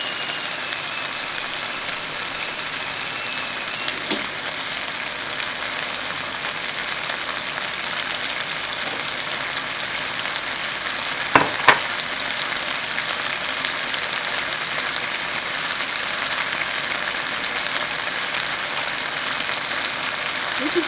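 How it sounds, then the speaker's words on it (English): Hot water from a just-boiled kettle pours into a pan of Vietnamese caramelized catfish, giving a steady hiss and sizzle with a rain-like patter throughout and one brief splashy burst partway. "Now I'm going to go ahead and add the water in here, hot water in here."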